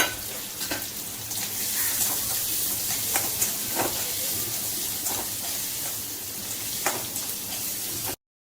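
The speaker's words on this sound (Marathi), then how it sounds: "2 मध्यम आकाराचे कांदे बारीक कापून घेतलेले आपण त्यामध्ये टाकून घेऊया आणि चांगले सोनेरी कलर येईपर्यंत त्याला आपण परतून घ्यायचे आहे" Finely chopped onions fry in a pan until golden, giving a steady close sizzle with a bright hissing texture, broken by occasional stirring scrapes and crackles, and no voices over it.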